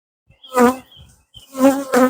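Honeybees from a gentle colony buzz close during a hive inspection, with several short loud droning passes that rise and fade within two seconds, separated by near silence.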